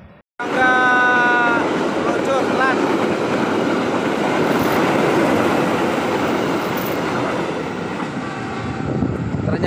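A Lodaya New Generation passenger train rumbles steadily and loudly close by at a station, with a brief squealing tone at the start and a voice speaking faintly over the noise.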